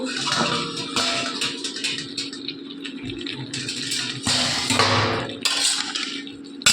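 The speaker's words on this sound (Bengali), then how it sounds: "5 মিনিট হয়ে গিয়েছে, ঢাকাটা খুলবো।" A metal lid lifted off a cooking pot of prawns and taro stems simmering on a stove, giving several clinks and rattles of metal on metal against a steady kitchen background, with no talk.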